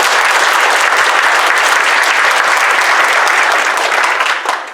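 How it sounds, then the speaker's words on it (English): At a university celebration marking 50 years of the Center for Afghanistan Studies, an audience breaks into loud, dense, sustained applause that stays full throughout and tapers slightly at the end. "That's an accomplishment worth clapping for."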